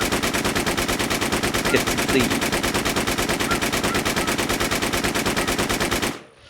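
An RPK machine gun in the shooter game Infestation fires one long sustained burst of rapid, evenly spaced shots for about six seconds, loud and close, then cuts off abruptly.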